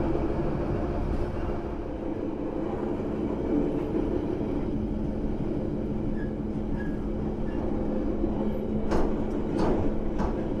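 A KA Sembrani passenger train rolls through Kedung Jati station near Salatiga, heard from on board as a loud, steady rumble of wheels and carriage noise with faint squeals and knocks, no talking.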